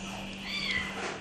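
A 2.5-month-old kitten injured after being hit by a car gives a single short, thin meow, fairly quiet and close, over a faint background hum.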